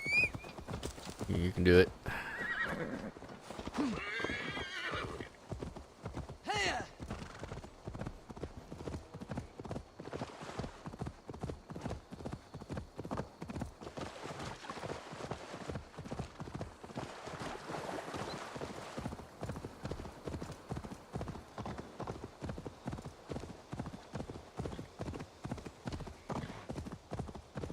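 Horse hooves clip-clop steadily and rhythmically in Assassin's Creed Valhalla, close and clear for the whole stretch, with a brief neigh early on and a voice speaking over the gait.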